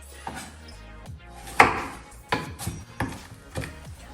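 Knife strikes on a cutting board, a few sharp chops spaced irregularly as ingredients for chicken liver pate are cut, close by, with light clatter between them.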